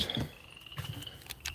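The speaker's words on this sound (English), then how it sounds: "we're going to listen to some frogs" Frogs peeping on a night walk, a steady high trill running through the clip with a few brief louder calls and faint rustling underneath.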